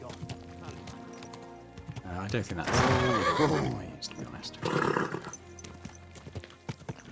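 A horse in the video game Kingdom Come Deliverance 2 neighs loudly twice amid clip-clopping hooves, while someone talks over the game sounds.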